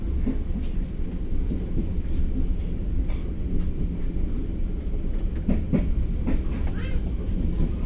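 Constant low rumble and rattling clatter from inside a moving passenger train carriage hauled by a CC 201 diesel locomotive, with occasional clunks and faint voices in the background.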